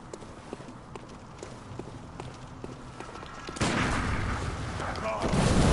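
Gunfire rings out in the Bloodborne video game, with repeated sharp shots and hoofbeat-like thuds in a busy game mix that grows louder and denser toward the end.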